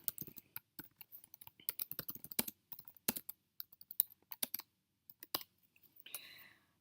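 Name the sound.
typing code on a computer keyboard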